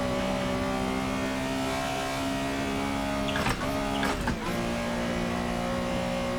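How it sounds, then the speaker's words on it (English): A Porsche 911 Carrera RSR 3.0 in Assetto Corsa accelerating flat out toward top speed, a loud steady engine drone with two brief gear shifts. "Let's push this car to the top speed."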